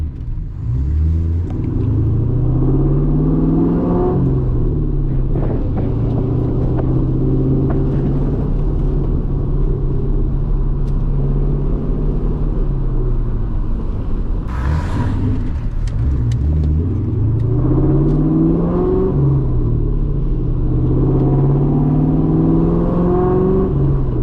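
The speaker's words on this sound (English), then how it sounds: "today I wanted to do some wide open throttle pulls for you guys, even though it's just a 2-valve." A straight-piped 2003 Ford Mustang GT with a 2-valve V8 makes wide open throttle pulls while driving: a loud, close, continuous rumbling exhaust whose pitch rises through the gears and drops at each shift.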